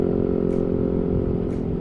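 A Yamaha Nmax scooter fitted with an AHM exhaust runs with a steady, throaty engine drone, close and loud, holding an even note without pronounced rev swells.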